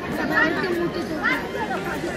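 Dense babble of many voices inside the crowded Sant Dnyaneshwar Maharaj Samadhi temple in Alandi, a steady murmur with a few louder voices rising briefly above it, close and continuous.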